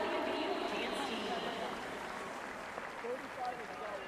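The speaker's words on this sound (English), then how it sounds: "How about another round of applause for the WVU dance team?" Fans at a West Virginia vs Texas basketball game applaud the WVU dance team, a broad arena roar of clapping that is strongest at the start and slowly eases, with voices mixed in.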